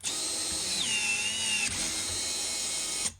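A Milwaukee M18 short throw PEX crimp press tool whirs close and loud, its motor pitch dropping as the jaws load up, then cutting off abruptly and restarting with a brief whine.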